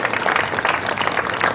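A crowd claps together in a steady, dense wash of applause at an outdoor internet-freedom protest in Hong Lim Park, loud and continuous throughout.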